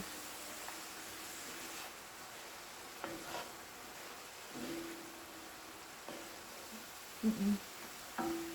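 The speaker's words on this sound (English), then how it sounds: "Alright, so I'm going to stir that together" Mixture of sauce and seasonings stirred together for egg roll filling, a soft continuous scraping with a few louder clinks and taps near the end, faint and close with no talk.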